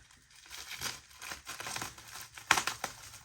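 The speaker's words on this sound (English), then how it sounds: "I'll get this last beer open with my scissors again" Beer can or bottle being pried open with scissors, a series of close crinkling, scraping and crunching bursts with one sharper snap near the end, no voices.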